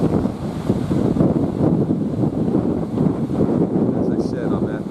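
Strong wind buffets the microphone at the Brigantine Seawall during Tropical Storm Isaias, a steady loud roar with rising surf churning underneath and no letup.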